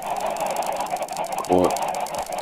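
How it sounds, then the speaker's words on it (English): Chickens clucking in a lively, busy din with a louder burst partway through, heard against steady background noise. "these chickens, bro."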